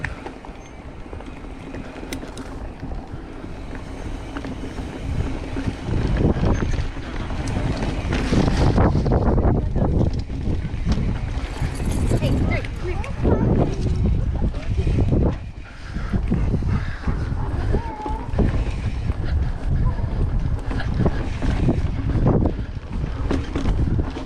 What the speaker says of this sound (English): Now we're going to cross the creek.